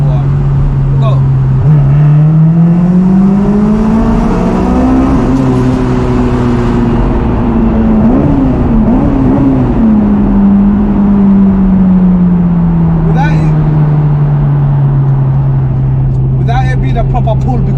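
A 2006 Honda Civic EP3 Type-R with a Stage 2 tune pulls hard under full throttle, the loud in-cabin engine note climbing steadily through the revs, dipping at a shift and droning on.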